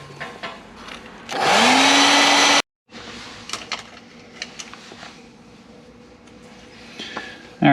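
A heat gun heat-setting airbrushed paint on a glide bait: a loud, steady blowing whir for about a second and a half, close up, then cut off, followed by light handling clatter.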